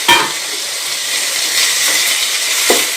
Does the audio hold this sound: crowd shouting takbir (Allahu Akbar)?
no